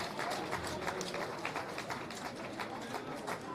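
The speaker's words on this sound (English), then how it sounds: "You could hear the applause there" A stadium crowd applauding a goal at an SK Sturm Graz friendly against Bačka Topola: dense, steady clapping and crowd noise spread evenly throughout, moderately distant and continuous.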